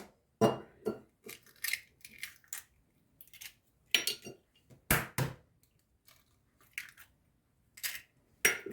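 Cottage cheese with chopped dill, green onion, salt and two eggs is mixed in a bowl: a spoon gives sparse, irregular clinks and taps, quiet and close, with pauses between strokes.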